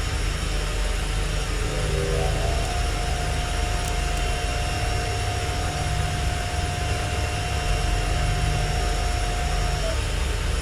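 A simulated aircraft engine in X-Plane 10.5 drones steadily throughout, a constant broad rumble with a faint sustained whine layered over it and no voices.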